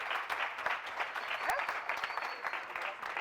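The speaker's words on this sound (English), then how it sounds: "So I want to welcome her tonight with the biggest applause and warmest welcome" An audience welcomes a lecturer with applause: clapping from a moderate crowd, fairly soft and somewhat distant, with a brief whoop or cheer partway through and faint voices mixed in.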